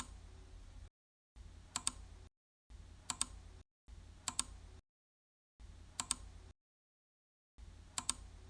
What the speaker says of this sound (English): you can keep on clicking to draw lines.